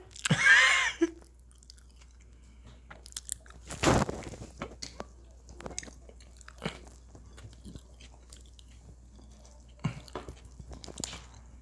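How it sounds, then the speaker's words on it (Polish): A spicy homemade burger is bitten into with a sharp crunch, followed by soft, wet chewing and smacking close to the mic, with scattered small clicks and squishes and no talk. "To jest ten gryz, to jest ten kęs."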